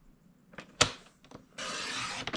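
Paper being cut into 1 by 6 inch strips from a 12x12 craft sheet. A few sharp snips and taps come first, then a steady rasping slide of the blade near the end, close and fairly quiet, with no talking.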